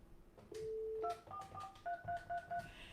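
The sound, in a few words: telephone keypad dialing tones on hotline call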